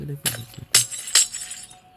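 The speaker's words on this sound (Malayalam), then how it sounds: "പൊട്ടിക്കരുത്, ഗ്ലാസ് പൊട്ടിക്കരുത്" Glass blocks shattering in Minecraft, three quick sharp breaking crashes in succession, with a voice heard briefly at the start.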